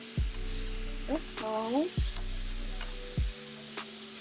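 Oil sizzles steadily in a frying pan while creamy Tuscan chicken cooks, a constant hiss with a few sharp pops and tonal sounds over it; a voice speaks briefly.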